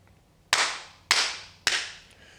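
Three sharp hand claps spaced about half a second apart, each a crisp, close, loud smack with a short decay, alone against a quiet room.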